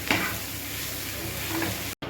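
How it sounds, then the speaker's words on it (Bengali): Singara filling of spiced potato sizzles and is stirred in a hot pan, a steady close frying hiss with soft scraping, alone and without talk, ending in a short gap. "একটু ভাজা ভাজা করে এখানে নামাই দিব।"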